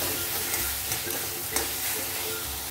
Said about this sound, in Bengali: আলুটা দিয়ে দেখুন ভালোভাবে কষিয়ে নিয়েছি